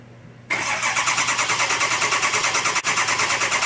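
Diesel engine cranking on its starter, with a steady rhythmic churning that begins abruptly after a short quiet moment and runs loud and close with one brief dip, no talk over it.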